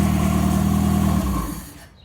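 A 1987 four-wheel-drive Toyota Tercel with a swapped-in 4A-C engine runs right after its first start, idling rough with a loud, steady mid-pitched drone and hum that winds down and fades out near the end.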